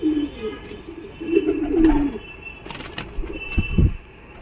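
A male Katmar Chhapga pigeon gives low, rolling coos in two longer phrases, followed by a brief flutter of wing flaps and a couple of deeper throaty calls close to the microphone.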